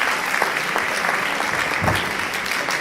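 Audience applause at a school reading event, a steady wash of many hands clapping at moderate loudness throughout, with no voices standing out.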